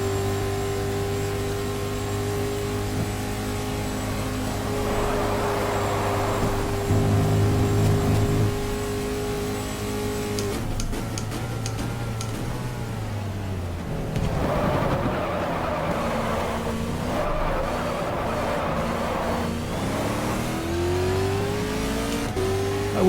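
Race car engine in the GTR2 racing game at Spa-Francorchamps, a sustained loud drone with steady harmonics, then abrupt shifts as revs drop and climb again through gear changes, with no talk over it.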